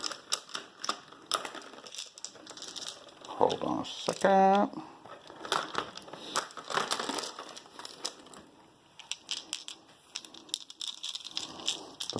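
Large dice tumble and clatter across a tabletop wargame board in a short rattling burst, with players talking before and after and other small scattered knocks.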